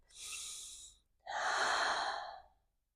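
A deep yoga breath taken during a lower-body stretch: one steady inhale, then a short pause and a longer, fuller exhale, close and clear with no talking.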